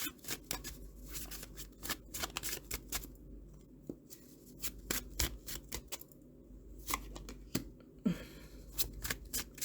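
Tarot cards being shuffled and drawn for a pick-a-card reading, a steady run of crisp riffling flicks and soft slides close by, with short pauses between bursts and no talking.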